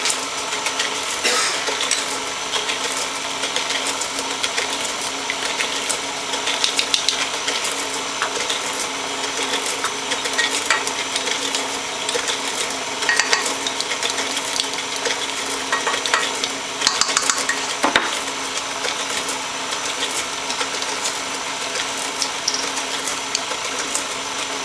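Cookie dough for lactation cookies churning in an electric mixer, a continuous mechanical whir with a rattling, clicking texture from the beaters, steady and fairly loud throughout with no voices.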